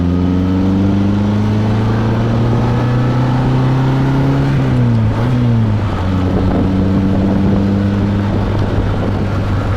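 A 1958 Morgan Plus 4 sports car engine drones steadily from inside the car while driving, rising slightly in pitch, dipping briefly during a gear change, then pulling on again at a steady note.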